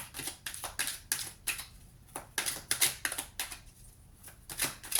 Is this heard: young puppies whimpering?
no